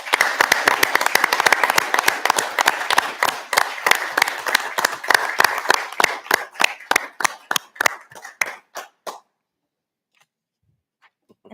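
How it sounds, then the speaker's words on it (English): An audience at a city council meeting claps: dense applause that gradually thins into scattered individual claps before stopping. "We should give her a round of applause too."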